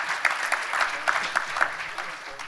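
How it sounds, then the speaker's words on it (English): Applause from a debate audience at the close of a summary session, a dense steady patter of clapping with a few sharper claps, moderately loud throughout. "Yes, applause, please."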